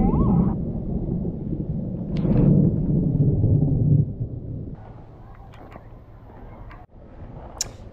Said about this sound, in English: But there's lots of thunder.